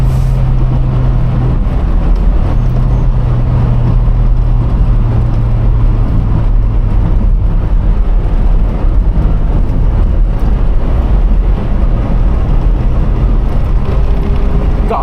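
A loud, continuous engine roar as a Toyota MR2 drives along a country lane, with steady road noise and a shifting pitch but no sharp revs or speech.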